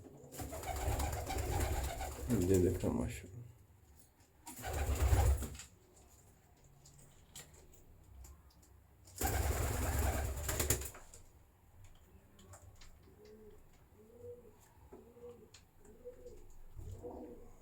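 Pigeons coo softly and repeatedly in a rhythmic series of low, throaty calls, with a few louder bursts of rustling or flapping nearby and a brief spoken phrase near the start.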